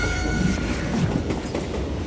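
Train from the Call of Juarez Gunslinger video game rumbling steadily along the tracks, with a continuous low roll and faint clacking, heard alone without voices.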